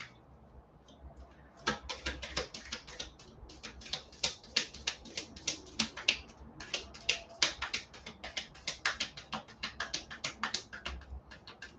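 Cards are shuffled repeatedly at close range, bursts of quick crisp flicks and taps in uneven runs, fairly quiet with no talking.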